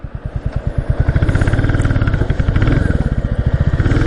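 A Royal Enfield Classic 350 motorcycle engine roars steadily at about 60, its rapid firing pulses loud and close, with a faint voice briefly underneath.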